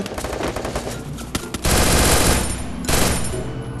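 Loud, close automatic gunfire from the Free Fire battle royale video game, a dense, continuous rattle of rapid shots with brief bursts and overlapping fire, no speech.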